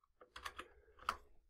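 Quick bursts of keyboard typing, a few clustered keystrokes then a pause and another short flurry, close and fairly quiet.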